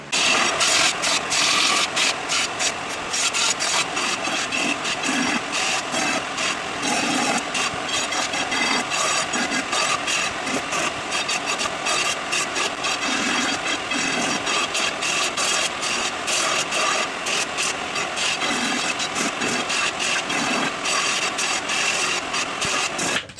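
A rebar sword blade being ground to remove deep angle-grinder marks, a loud continuous whir of a grinding machine against steel, steady and close throughout with no talking.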